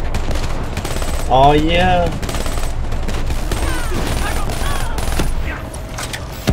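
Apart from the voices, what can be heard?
rapid-fire Dredge 48 gun shooting, Call of Duty Black Ops 3 video game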